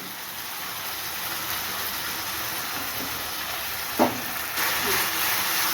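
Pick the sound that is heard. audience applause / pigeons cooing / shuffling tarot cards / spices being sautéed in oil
spices being sautéed in oil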